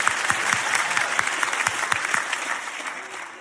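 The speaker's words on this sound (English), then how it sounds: "Clap like it's not you." A church congregation applauding, steady dense clapping with a few sharper claps standing out, fading slightly toward the end.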